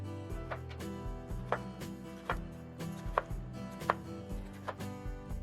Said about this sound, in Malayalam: ക്യാപ്സിക്കം നമ്മൾ അകത്തെ കുരു കളഞ്ഞ ശേഷം റിംഗ് ആയിട്ടാണ് കട്ട് ചെയ്തെടുക്കുന്നത്